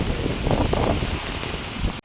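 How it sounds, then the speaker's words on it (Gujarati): Rain pouring during a windy storm in Chobari village, a loud steady hiss of falling water mixed with gusty wind buffeting the microphone, cutting off abruptly at the end. "આ બાજુ પાછળ દેખો અહીંયા વરસાદ છે ચાલુ"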